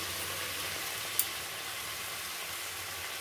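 Mutton pieces dropping into a pan of frying onion masala, a steady broadband sizzle throughout with one brief clink near the middle, no voices.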